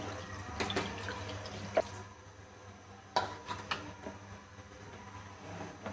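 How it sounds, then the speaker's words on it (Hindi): Quiet water running and splashing into a bowl while making rasmalai, with a few soft clinks of a pot or bowl near the start and middle. "इसमें हम पानी डालेंगे ताकि ठंडा हो जाए"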